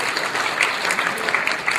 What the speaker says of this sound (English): Please welcome him in your round of applause.